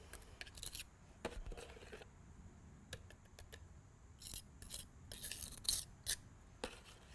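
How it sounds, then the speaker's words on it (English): A small margin trowel spreads and scrapes a concrete patch on a deck surface, making quiet close gritty scrapes and taps in irregular bursts with no talking. "I'm just going to use the smaller trowel here, smaller margin trowel."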